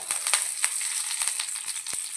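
Curry leaves sizzle in hot coconut oil alongside fenugreek seeds and broken dried red chillies, a close, steady hiss broken by several sharp crackles and pops.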